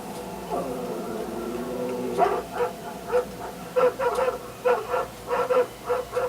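A dog in a film whimpers and howls, then breaks into a series of rapid, moderately loud barks and yips in an uneven rhythm over a low background hum.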